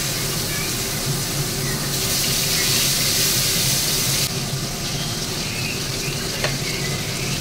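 Cumin seeds and potatoes fry in hot oil with a loud, close sizzle and occasional stirring scrapes; the hiss swells brighter for a couple of seconds midway, then settles back to a steady crackle.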